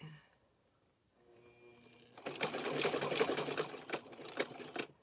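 A sewing machine stitching fabric-wrapped clothesline rope starts after a quiet pause, then runs in a fast, close mechanical rattle with brief stops and restarts for back and forward stitching.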